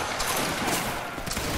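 A line of soldiers at a Waterloo battle reenactment fires a musket volley, a dense crackling burst of overlapping shots that spreads through the short moment, loud and continuous with no talk.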